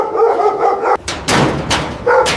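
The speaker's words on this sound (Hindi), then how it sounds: "अरे ये गेट ना खोलो, इसमें बहुत सारे कुत्ते हैं।" Several dogs bark behind a gate in loud, sharp bursts, close by and irregularly spaced, with a clang or slam among the barks.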